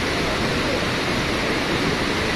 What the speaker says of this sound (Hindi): यहाँ से यमुना का बहाव आप देखिए कितनी तेज है, यहाँ पे आवाज आ रही है